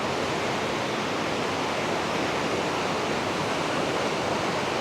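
Swollen river water rushing strongly during monsoon rains in a hilly village, a dense, steady, loud roar of flowing water with no let-up and no voices.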